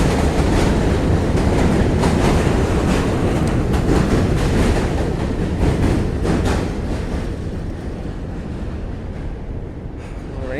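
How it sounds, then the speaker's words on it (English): A train rolls past close by in a loud, continuous rumbling roar with rhythmic clattering wheels on the rails, slowly easing off toward the end. "These trains definitely don't run as often when I'm waiting for them."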